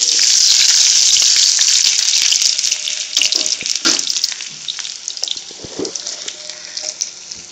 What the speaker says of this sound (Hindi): देखिए, हम प्याज को लाइट गोल्डन कर रहे हैं।